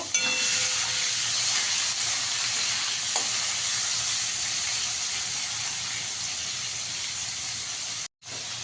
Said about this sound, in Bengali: চিংড়ি মাছটা একটু হালকা করে ভেজে নেব।